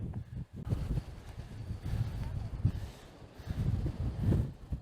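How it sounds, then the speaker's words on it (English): Strong wind on a beach buffets the microphone in a continuous, heavy low roar that gusts and swells without a break. "Oh, it's windy."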